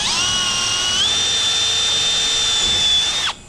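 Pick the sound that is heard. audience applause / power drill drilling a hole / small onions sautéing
power drill drilling a hole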